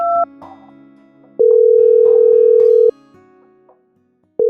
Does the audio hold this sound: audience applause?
no